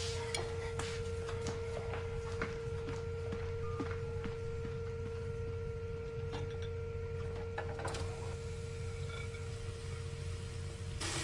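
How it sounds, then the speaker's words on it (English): Dishes being washed indoors: faint scattered clinks of plates and cutlery over a constant electrical hum and hiss, with no talking. "I think I'll get started with the dishes."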